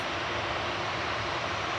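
An Airbus A320 bound for Dublin at Manchester Airport gives off a steady, broad jet roar that holds at an even level throughout the brief moment, with no voices.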